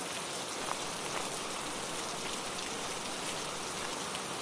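Steady rain falling outdoors, an even, dense patter of drops at moderate level with no pauses or voices.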